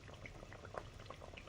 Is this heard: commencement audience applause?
no